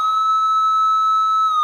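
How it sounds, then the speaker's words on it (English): A synthetic siren sound effect from a donation alert on a live stream, a steady high electronic tone with an overtone running for under two seconds, loud and alone with no talk over it. "And a little bit of siren too."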